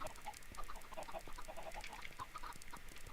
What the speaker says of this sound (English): like chickens tend to fly out